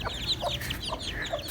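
Aseel chickens shut in their pen while being vaccinated, giving a run of short, close clucks and squawks in quick irregular succession with no talking over them.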